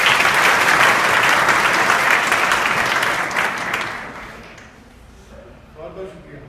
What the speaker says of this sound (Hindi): इनके लिए एक जोरदार ताली बजाएं।